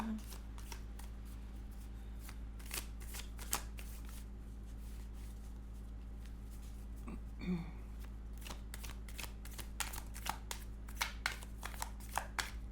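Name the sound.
shuffling tarot cards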